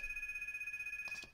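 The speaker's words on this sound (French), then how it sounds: "Ah, le téléphone sonne," A telephone rings with a steady electronic trill that pulses rapidly, loud and close, then cuts off at the end.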